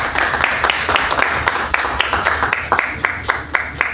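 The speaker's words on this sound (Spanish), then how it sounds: "Un aplauso para José Carlos Requena" An audience at a book presentation at the Ricardo Palma Book Fair gives sparse applause, with distinct individual claps ringing out in a loose, uneven rhythm at moderate loudness.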